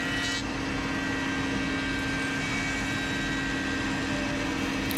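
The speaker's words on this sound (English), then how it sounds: "I set up the thicknesser to plane the pieces" A thicknesser planes rotten wood pieces for kitchen shelves, a loud, steady mechanical roar and whine running without a break, with dust extraction in the workshop.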